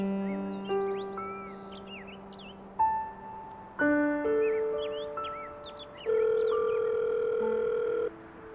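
A phone ringback melody plays loudly and alone: sustained electronic tones step through changing pitches in a repeating tune as a call waits to be answered.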